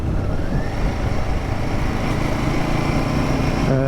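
Royal Enfield Guerrilla 450 motorcycle engine running steadily, a close, continuous buzzing drone with a slight rise in pitch toward the end.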